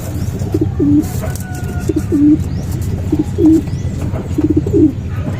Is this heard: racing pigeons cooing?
yes